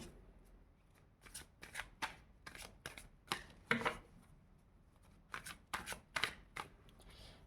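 Tarot cards are shuffled by hand in a quiet room, giving repeated soft riffling and slapping bursts in an uneven rhythm, close by and faint, with no talking over them.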